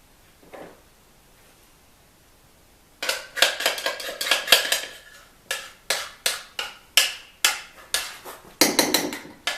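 Yellow cake mix with pudding in it is poured and stirred into a pot outdoors on a cool rainy day, giving a run of sharp metallic scrapes and clinks in a steady rhythm, close and fairly loud, after a quiet opening.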